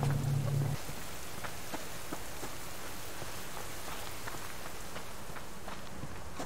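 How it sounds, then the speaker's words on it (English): Steady rain in the Subsistence video game hisses loudly and evenly on surfaces, with scattered drop patters throughout and a brief low hum fading out in the first second. "That rain is so loud sometimes."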